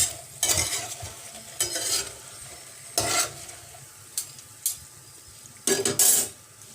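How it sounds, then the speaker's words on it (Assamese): Potatoes frying in a pan for a sweet-and-sour Assamese potato dish are stirred in several separate bursts of scraping and sizzling, with a quieter steady sizzle between them and no talking. "এয়া তেতিয়াই গম পাই যাব যে এই আলুখিনি আপোনালোকৰ ফ্ৰাই হৈ গৈছে।"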